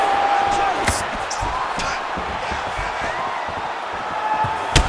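Strikes to the body in the UFC 5 fighting game, a few dull thuds and smacks spread over a few seconds. A loud arena crowd hums underneath and a commentator talks over it.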